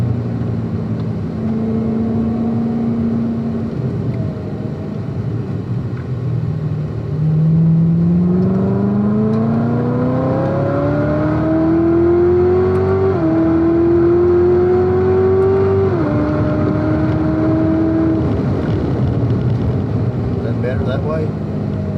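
A 2019 Corvette ZR1 on a race track at Spring Mountain, its engine droning loud and steady inside the cabin, pitch climbing through gears and then dropping as it slows, with people talking over it.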